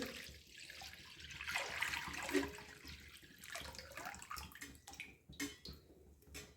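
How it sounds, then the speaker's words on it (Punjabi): About two litres of water pours steadily into a metal wok, a broad splashing rush that swells and fades, with a few clanks toward the end. "ਸਭ ਤੋਂ ਪਹਿਲਾਂ ਪਾਉਨੇ ਆਪਾਂ ਕੜਾਹੀ ਦੇ ਵਿੱਚ 2 ਲੀਟਰ ਪਾਣੀ"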